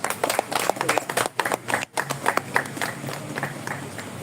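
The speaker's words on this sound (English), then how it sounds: "So I think you deserve a round of applause." Close audience clapping fills the moment, loud irregular hand claps that rise and dip, briefly thinning before settling into a steady round of applause.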